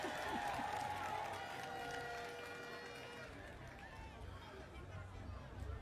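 Members of a poultry farmers' association clap at a chicken-production launch event in Ghana, a steady crowd patter heard at a distance with a murmur of voices underneath.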